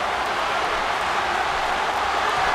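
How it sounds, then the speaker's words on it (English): A wrestling arena crowd in the WWE 13 video game keeps up a dense, steady roar of cheering and applause, loud and unbroken from start to finish. "Would you listen to this crowd show their appreciation for these amazing competitors?"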